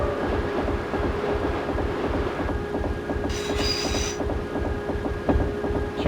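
Train passing through a station in the Densha de GO! 64 railway video game, a loud, steady rumble with rhythmic clickety-clack of wheels and a brief high squeal partway through, with no voices.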